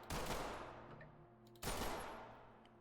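Two loud handgun shots from the tactical shooter Ready or Not, each a sharp close blast with a ringing tail, about one and a half seconds apart, with no talking.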